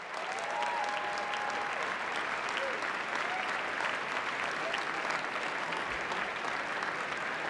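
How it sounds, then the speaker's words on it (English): A banquet audience at the 2019 White House Correspondents' Dinner gives sustained applause for scholarship winners, a dense, even roar of clapping lasting several seconds, with faint voices underneath. "please join us in giving a round of applause for the 2019 scholarship winners"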